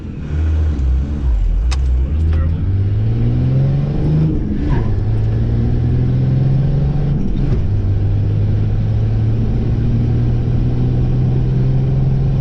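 Car accelerating hard in second gear on a quarter-mile run, its engine note climbing steadily with a couple of brief dips before rising again, loud and close with no talking.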